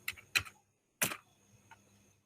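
Keys pressed on a computer keyboard while working in an Excel spreadsheet: a few crisp, close clicks in quick succession, then a single firmer tap, with quiet gaps between.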